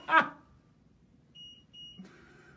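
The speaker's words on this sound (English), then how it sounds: "Cindy, that is the mug press you hear beeping" Two short, high electronic beeps from a mug press in quick succession, fairly faint, following a brief clatter and low background noise.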